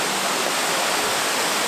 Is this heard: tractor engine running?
no